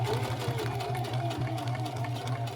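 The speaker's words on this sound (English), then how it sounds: "we're going to sew down to where we can feel the elastic ends" A sewing machine stitches down a pant waistband seam near the elastic ends, running steadily and continuously up close with an even mechanical hum and no pauses.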